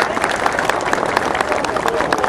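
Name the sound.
applause at a metalworkers' union party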